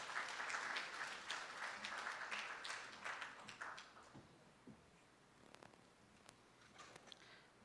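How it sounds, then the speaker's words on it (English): A primary school graduation audience gives a round of applause for a speaker, fairly faint and dense at first, then thinning out to a few scattered claps and shuffles. "Let's welcome her with a round of applause."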